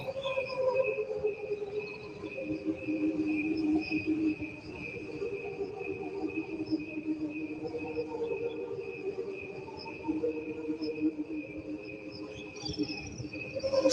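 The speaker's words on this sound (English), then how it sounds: "These are crickets, people." Crickets chirp continuously in a played-back recording, layered high-pitched trilling from several insects in an even, unbroken chorus against faint background hiss, with no talking over it.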